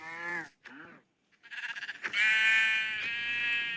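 A cow in the video game Minecraft gives a sustained lowing call after a few shorter broken bleats, loud and near, with no talking over it.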